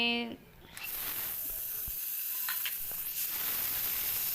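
Steady oil sizzle fills the clip after a brief quiet start, with a few faint clinks and scrapes from stirring; chickpeas and cumin frying close by.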